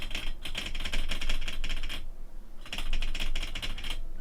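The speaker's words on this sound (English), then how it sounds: "you might be able to hear my keyboard if I do this" Computer keyboard typing in two bursts of rapid, close clicking keystrokes, separated by a short pause, with faint ambient room noise underneath and no talking.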